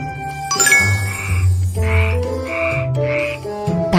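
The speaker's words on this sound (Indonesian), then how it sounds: "Katak dapat bernyanyi seperti ini." Cartoon frog croaks from a children's educational game about frogs, a series of loud, clear tonal ribbits repeating about every half second alongside a light chime, with no talking.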